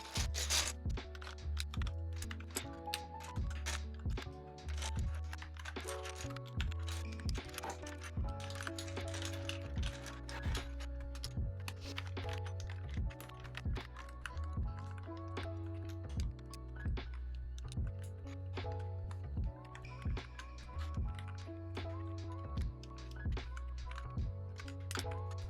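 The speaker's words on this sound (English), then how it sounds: "So now the next piece is now you need to attach all of the keycaps to the keyboard itself." Keycaps being pressed onto a Nuphy Halo 65 mechanical keyboard, with a steady stream of close, sharp plastic clicks and taps in irregular rhythm, no one speaking.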